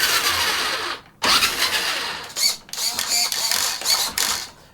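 A Tamiya Super Clod Buster monster RC truck, built from kit 58518, whirs with electric motor and gear noise in loud bursts that rise and cut out several times, close up and with no voices.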